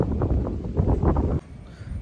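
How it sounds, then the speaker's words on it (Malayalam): Strong wind rushes in a steady, loud roar beneath a sheet-metal roof in Kochi, then drops suddenly to a softer rustle partway through, with no talking. "നല്ല കാറ്റടിക്കുന്നുണ്ട്"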